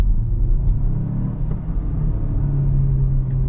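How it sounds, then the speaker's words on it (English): Artificial engine sound from a 2021 Renault Megane TCe 140 in sport mode, played through the car's speakers: a loud, steady low rumble and drone inside the cabin with slight rises in pitch, and no talking. "the car is producing the sound from the speakers"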